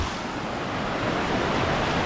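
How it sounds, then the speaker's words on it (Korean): A waterfall at a summer getaway spot in Hongcheon, Gangwon Province, heard as a steady, broad, loud rushing roar with no breaks, close by and without talk. "폭포 한번 보시겠습니다"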